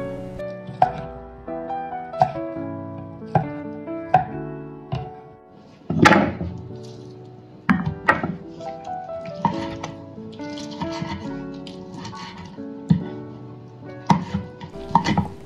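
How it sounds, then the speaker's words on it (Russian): A knife chops cooked chicken repeatedly on a board in uneven bursts, with clinks and soft kitchen clatter mixed in. "Курицу можно отделить от костей и мелко нарезать"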